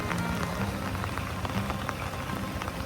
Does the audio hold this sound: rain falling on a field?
yes